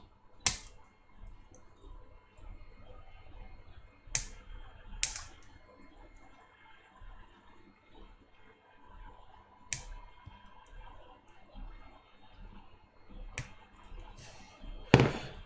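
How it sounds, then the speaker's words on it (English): Snips cut the small black corner lugs off 12mm white illuminated tactile switches, making sharp, isolated clicks several seconds apart over a quiet background. "Just get some snips and just take them four little black lugs off the corners."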